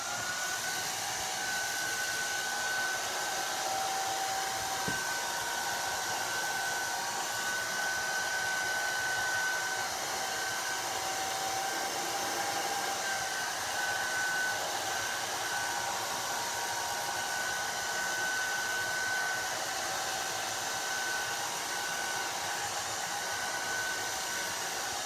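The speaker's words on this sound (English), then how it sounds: "The blow dryer I kept on my cool setting on low" A blow dryer on its low, cool setting blows alcohol inks dry, a steady, even whir that holds unchanged, close and alone, for the whole stretch.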